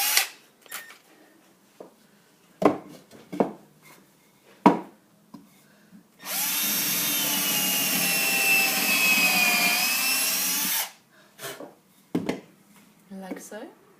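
A power drill whirs loudly and steadily for about four seconds, surrounded by scattered clicks, knocks and handling noises before and after.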